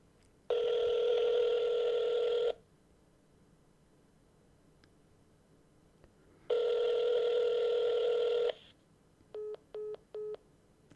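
A phone call rings out through the handset: two long ringback tones separated by silence, followed by three short evenly spaced beeps, heard clearly with no voices.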